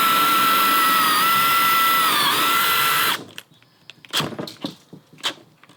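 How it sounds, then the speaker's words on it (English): A DeWalt cordless drill on its fast setting whines steadily and loudly for about three seconds, then stops. Scattered knocks and rattles follow, like the bit shifting in wood. "I'm gonna chuck that up, and I'm gonna try to drill through this"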